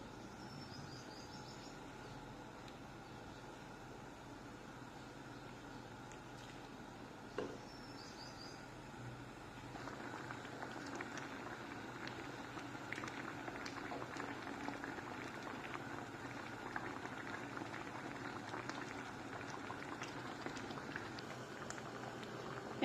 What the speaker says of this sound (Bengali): এখন দিয়ে দিব পরিমাণ মতো পানি, কফি সিদ্ধ হওয়া পর্যন্ত।